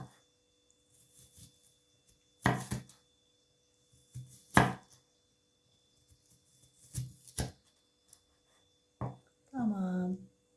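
Vegetables chopped on a board for a chicken and vegetable pilaf, a few separate bursts of knife strikes spaced across the stretch, with short gaps and faint kitchen noise between.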